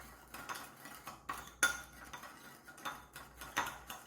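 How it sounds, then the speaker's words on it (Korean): A spoon stirs vinegar with sugar and salt in a bowl, making quiet rhythmic scraping clinks of metal against the dish, roughly two strokes a second, with no talking. "식초에다가 설탕과 소금을 넣어서 전체적으로 잘 저어서 설탕과 소금 입자가 잘 녹도록 잘 저어주세요"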